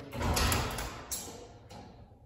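A garage door opener strains as the door shifts only slightly, giving a rumbling mechanical slide that swells then fades, followed by a brief knock and a quieter trailing rattle, close and moderately loud with no talking.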